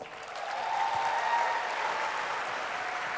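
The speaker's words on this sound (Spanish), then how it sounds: "Recibamos con un fuerte aplauso a Williams Olivares." Audience applause fills a conference hall at a leadership event, a steady, dense wash of clapping held at constant loudness throughout.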